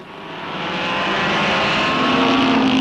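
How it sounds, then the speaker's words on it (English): A race car engine revs at the track, a loud sustained roar that swells in the first second and then holds steady and close, with no talking over it. "rev up that engine at the track"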